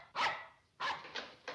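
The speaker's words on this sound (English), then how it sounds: "I'd know that unfriendly bark anywhere." An unfriendly dog barks in three or four sharp, close barks, spaced unevenly with short gaps between them, with no voices over them.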